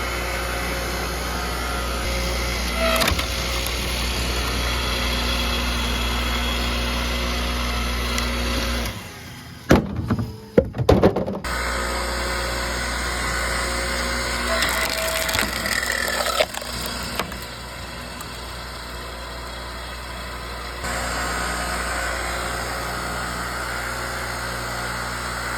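A Bilt Hard 6.5-ton electric log splitter runs with a steady motor hum while splitting a log, the drone broken midway by a burst of cracking, splintering wood, then carrying on at an even level.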